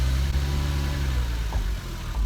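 A Porsche Cayman's engine runs with its cover removed, a loud, close, low mid-engine drone that rises and falls slightly around 3,000 RPM, heard alone.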